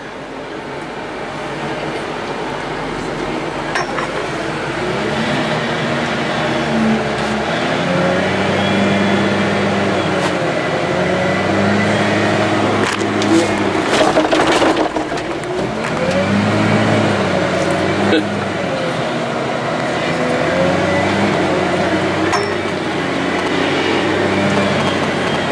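A JCB 416S wheel loader drives along with its engine running, making a continuous loud diesel drone whose pitch rises and falls as the machine shuttles back and forth, with rattling in the cab.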